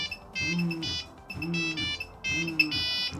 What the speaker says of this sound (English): I just love this ringtone.